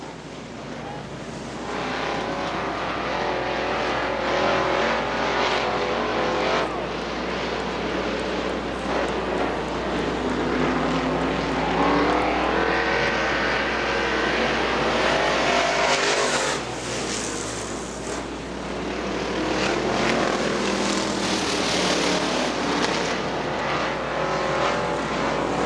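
Street stock race cars roar around the track at Butler Motor Speedway, a continuous dense engine drone with rising and falling passes, loud and sustained throughout with a low steady hum underneath.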